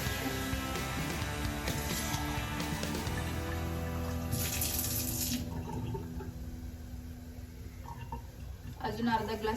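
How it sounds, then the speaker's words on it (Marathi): Another half glass of water splashes into a pot of rajma in a home kitchen, a close, continuous watery pour that tapers off midway, followed by quieter stirring sounds and brief clinks near the end. "अजून अर्धा ग्लास पाणी ओततीये"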